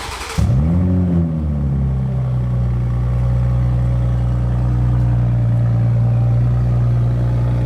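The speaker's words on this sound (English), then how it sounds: "So it's basically just dumping out the bottom of the car. And we're gonna see how it sounds." Toyota Supra MKV engine with a loosened catless downpipe venting under the car: a starter crank and quick rev that settles into a steady, fairly quiet low idle rumble, close and continuous with no talk.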